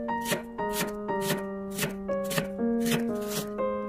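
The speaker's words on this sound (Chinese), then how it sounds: "再准备半个洋葱，先切成洋葱丝" A knife cuts half an onion into strips on a cutting board, with about eight crisp, regular chops over steady background music.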